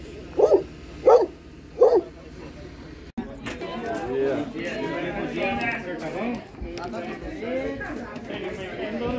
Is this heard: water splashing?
no